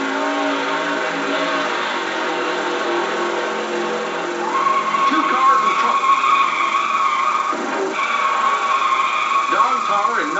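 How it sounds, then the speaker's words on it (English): Stock cars racing at the Southern 500, engines droning steadily at speed with tire squeal rising partway through, heard under a commentator's voice. "Yarborough pacing the Southern 500 at better than 140 miles an hour"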